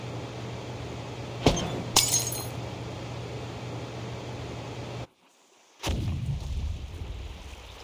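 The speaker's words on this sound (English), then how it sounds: "Sounds like some kind of explosion near the clinic" An explosion sound effect in the video game Reverse: 1999, with a sharp crack followed by a second glassy burst over a low steady hum, then a brief silence before another heavy rumbling blast.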